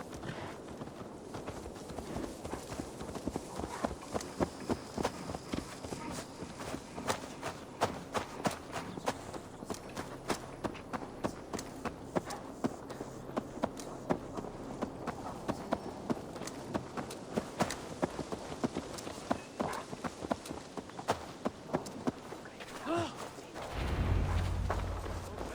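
Horse hooves clip-clop at a steady walking pace in Assassin's Creed Valhalla, a close, even rhythm of repeated thuds running for most of the stretch with no talk, ending in a low rumble.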